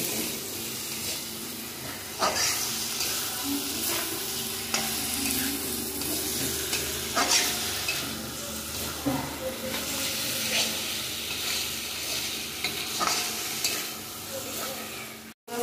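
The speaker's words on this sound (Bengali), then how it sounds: "লতিগুলো দিয়ে খুব ভালো করে মশলার মধ্যে মিশিয়ে নেব" Boiled taro stolons are stirred into a spicy masala in a pan with prawns. A steady loud sizzle runs throughout, with a spatula scraping and clacking now and then, close and with no voices.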